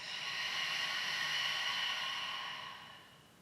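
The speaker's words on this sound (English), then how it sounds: "Maybe inhale through the nose. Exhale Exhale, nose or mouth." A single slow ujjayi exhale during pranayama practice, a soft, close, breathy hiss that swells and then fades over a few seconds.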